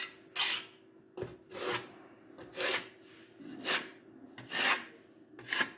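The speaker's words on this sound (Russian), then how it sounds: "Я наношу кельмой, а вы наносите шпателем. То есть вы просто наносите тоненький слой, как будто бы вы шпаклюете." A steel trowel scrapes pearlescent plaster containing glass microspheres across a wall in repeated short rasping strokes, about one stroke per second. The strokes are close and fairly quiet, with brief pauses between them and no speech.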